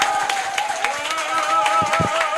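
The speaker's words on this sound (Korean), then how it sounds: "뜨거운 박수 부탁드리겠습니다" Audience applause at a Korean political youth committee launch event, a steady wash of clapping over background tones and a few scattered voices, fairly loud throughout.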